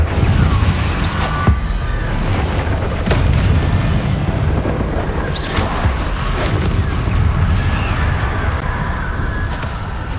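Incendio fire spell being cast in Hogwarts Legacy, a series of loud whooshing bursts and booming crackles repeating every second or two over a dense, rumbling game soundscape, with no talking.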